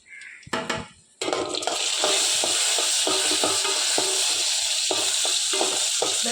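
Cashews frying in two spoons of ghee for payasam: a few clinks and taps of a spoon come first, then a steady, loud, bright sizzle that continues close and unbroken.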